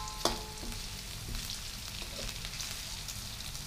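Garlic, onion and spices fry in a pan with a soft, steady sizzle and faint stirring scrapes, quiet and close, with one sharp clink near the start.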